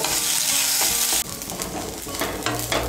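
Drained rice being fried in a pan for a vegetarian rice and pointed gourd dish, a loud, bright hiss that shifts as the grains are stirred, with crackles and scraping strokes, no talk.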